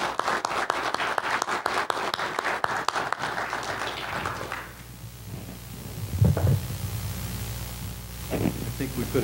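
Audience applause for a leadership panel at a CEO conference, a dense patter of claps for the first few seconds that fades out, followed by quieter room noise and a few brief sounds.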